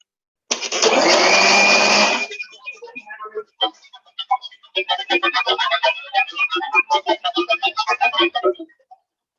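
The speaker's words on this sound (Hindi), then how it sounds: "अभी तो मैंने थोड़ा ही पानी डाला है, ताकि थोड़ा सा ग्राइंड हो जाए" A mixer grinder whirs loudly for about two seconds as it blends ingredients with a little water, then stops, and a voice starts talking.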